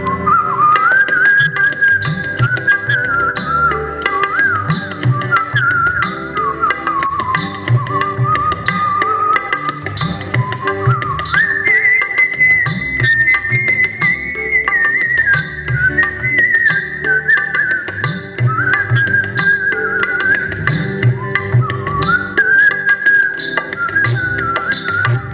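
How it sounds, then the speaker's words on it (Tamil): A person whistles a continuous, wandering melody for the whole stretch, loud and close, with musical accompaniment underneath and no talk. "எங்கள் வீட்டில் எல்லாருமே விசில் பண்ணுவோம்"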